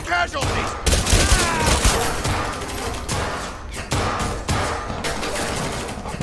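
Pistol fire in Cyberpunk 2077, a series of loud sharp shots at irregular intervals amid busy combat noise, with a player talking over the action.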